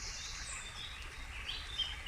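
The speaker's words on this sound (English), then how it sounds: "Birdsong resounding," Birdsong in ancient woodland: faint, scattered chirps and short calls float high over a soft, steady outdoor hush, with no voices.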